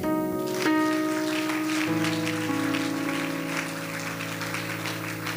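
A church congregation claps to acclaim God, a dense steady round of applause beneath sustained organ or keyboard chords, continuing evenly throughout.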